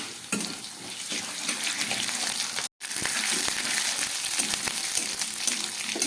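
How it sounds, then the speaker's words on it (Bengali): Potatoes seasoned with salt and ground turmeric fry in hot oil, giving a steady close sizzle with occasional stirring scrapes and a brief cut to silence midway. "আলুগুলো হালকা লাল করে ভেজে নিলাম।"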